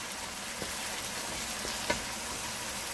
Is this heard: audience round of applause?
no